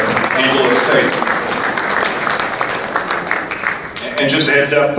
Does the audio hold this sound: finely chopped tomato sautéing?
no